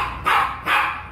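A jealous pet dog barks twice in quick succession, close and fairly loud, with no talk over it.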